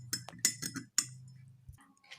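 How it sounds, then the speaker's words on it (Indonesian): A spoon stirring sugar into water in a glass clinks sharply against the sides in a quick run of bright taps, then trails off into fainter scraping, close and alone. "Kita aduk sampai gulanya melarut."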